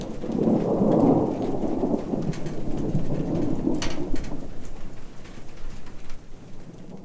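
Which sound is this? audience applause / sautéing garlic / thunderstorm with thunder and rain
thunderstorm with thunder and rain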